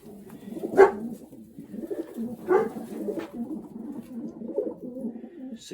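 A racing pigeon coos in soft, repeated rounds close by, with a couple of louder coos standing out against a low murmur of other birds in the loft.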